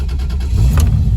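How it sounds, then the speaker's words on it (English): A Toyota Supra MKIV engine, just started, runs close and loud as a steady low rumble with a slight rise in revs partway through. "I'm going to go ahead and start the car."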